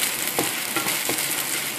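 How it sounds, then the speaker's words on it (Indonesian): Garlic fries in a pan for mie kocok, giving a steady, loud, close sizzle with faint stirring scrapes throughout. "Dan kemudian kita masukkan bawang putih."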